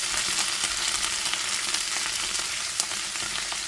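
Peppers fry in a pan with a dense, even sizzle close by, bright crackling and occasional small pops throughout, no one speaking.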